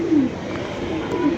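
Pigeons coo in a low, throaty burst at the start and again near the end, close and moderately loud over a soft background hum.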